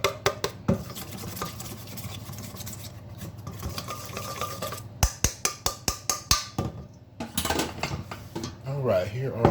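A utensil stirs mustard batter in a bowl, scraping and sloshing, then breaks into a quick run of crisp rhythmic clinks against the bowl before ending in wetter mixing.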